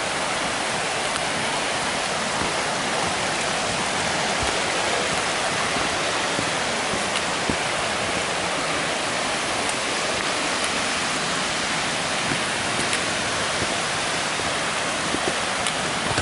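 Sheldon Reynolds waterfall at Ricketts Glen State Park pours with a steady, even rush of water that fills the whole stretch without a break, and no voices are heard.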